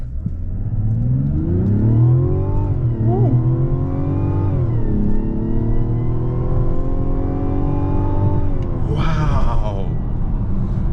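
A 2025 Mazda CX-70 accelerates hard from inside the cabin, its engine note climbing steadily through gear changes in a loud, close, smooth rising drone, with brief voice sounds near the end.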